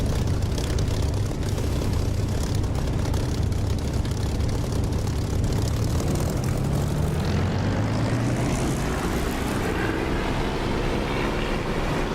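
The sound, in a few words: aircraft engine throttling up in DCS flight simulator video game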